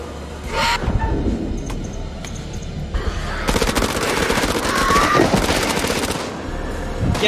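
Sustained machine gun fire in the House of Ashes video game, dense rapid bursts running continuously and loud for most of the stretch, with a brief lull near the start before the firing intensifies.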